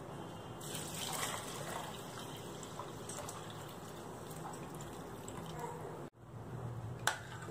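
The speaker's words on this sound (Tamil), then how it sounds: "14 கப் தண்ணி சேர்த்துக்கங்க." Water is poured into a pot of rice, garlic and dal for a Chettinad-style porridge, a continuous close splashing gush that runs several seconds, breaks off abruptly, then resumes with a small clink.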